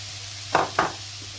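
Celery, carrots and onion go into a pan with lightly golden garlic, giving a low steady sizzle. Two quick scraping stirs cut through it, close and brief.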